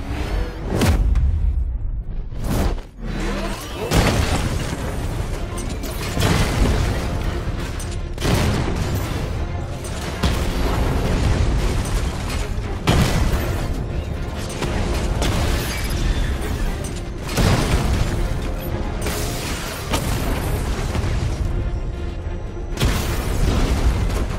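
The Batmobile's 60mm cannon in Batman Arkham Knight fires against heavily armored units, delivering repeated loud, booming blasts with sharp bursts over a dense, continuous roar of combat explosions.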